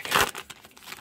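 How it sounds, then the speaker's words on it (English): Foil wrapper of a 2017 Topps Gypsy Queen baseball card pack being torn open, a close, bright crinkling rip peaking early, then softer crackles of the wrapper settling. "cracking the packs"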